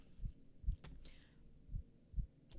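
Heavy heartbeat sound effect in a film: four deep, muffled low thumps arriving in pairs, loud and close against a quiet background, with no talk.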